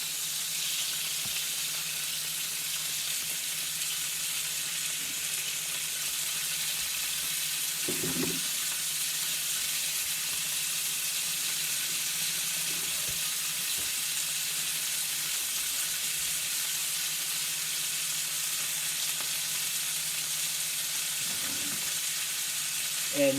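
Chicken fries in a paella pan, its fat rendering out in a constant close, even sizzle that holds for a long stretch, with only a few faint knocks of a utensil.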